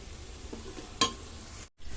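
Mutton biryani ingredients being stirred in a pan over a steady, soft sizzle, with one brief metallic scrape of the spoon against the pan and a short break in sound near the end.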